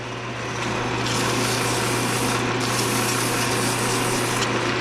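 A wood lathe spins a pen blank at high speed while it is sanded, giving a steady, close whirring motor hum with a continuous gritty rubbing hiss that drops away briefly twice.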